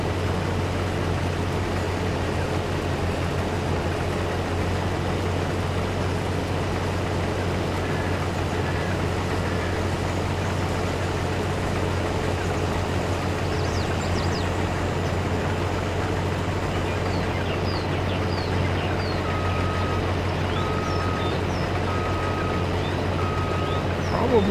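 A truck engine drones steadily in Farming Simulator 22, with faint, evenly spaced reversing beeps appearing toward the end over the constant rumble.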